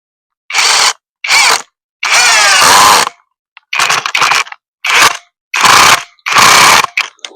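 An impact wrench fitted with an Ingco screwdriver bit drives a screw in loud, rattling hammering bursts. There are about seven separate bursts of roughly half a second to a second each, with brief silent pauses between them.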